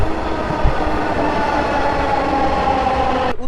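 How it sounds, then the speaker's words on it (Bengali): A Dhaka metro train pulls into a station near Uttara Diabari with a loud, steady rumble and hum of wheels and motors. The sound is close and continuous and ends in a sudden cut. "মেট্রো চলে আসছে।"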